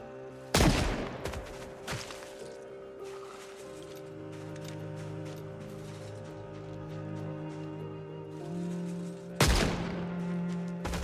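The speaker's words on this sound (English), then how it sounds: "God, I love shooting in the head" A firearm goes off in the zombie survival game Project Zomboid, with three sharp, loud shots spaced far apart over a steady, tonal game ambience.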